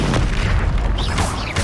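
A Confringo explosion spell in Hogwarts Legacy bursts with a loud, heavy boom, its deep rumble filling the moment with crackling debris after the blast.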